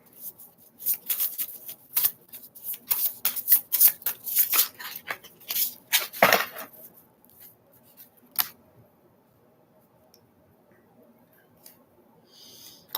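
Tarot cards are shuffled by hand in a steady run of crisp riffling and slapping bursts, close and fairly loud, then trailing off into near silence with a few scattered taps.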